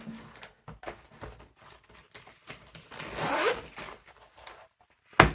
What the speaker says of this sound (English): one viewer gave me the tip of attaching all the zips onto the carry strap, like that, and that's been really handy